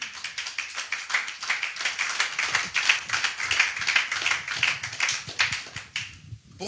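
A church congregation applauds to acclaim the Lord, a sustained wash of many hands clapping, dense and steady with a few rhythmic surges, fading out at the end.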